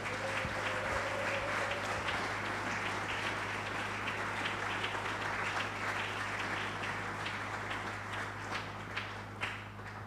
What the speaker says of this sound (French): Nous pouvons l'accueillir en l'acclamant, n'est-ce pas?